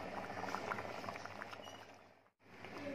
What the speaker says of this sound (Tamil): இப்போ பாருங்கள், நல்லா கொதிக்க ஆரம்பிச்சிருச்சு